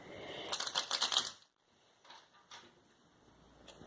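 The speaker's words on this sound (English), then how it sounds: "I just broke this deck to shuffle it." A quick riffle of tarot cards being shuffled, a burst of rapid flicking, followed by quieter handling and a few soft taps.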